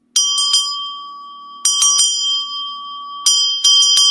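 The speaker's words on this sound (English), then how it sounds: "like to ring the bell for the children who are still abducted" A small handbell is rung in three separate bursts of quick double strikes, loud and close, each leaving a clear ringing tone that decays between shakes.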